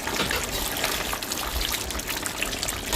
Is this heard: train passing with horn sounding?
no